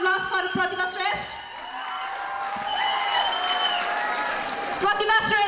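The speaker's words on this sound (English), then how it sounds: "may we have a round of applause for Pratibha Shrestha?" A crowd at a welcome program applauds steadily with a few whoops and cheers, the clapping swelling and continuing for several seconds.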